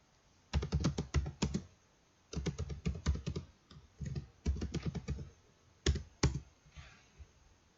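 Computer keyboard typing while entering SQL table commands for a database course, in quick close clattering bursts separated by short pauses, with a final pair of sharp key presses.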